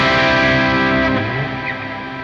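An electric guitar played through a Hotone Verbera reverb pedal with the decay set wide open. A bright, effected chord rings out loud, then slowly fades into a long, washy reverb tail with no voices.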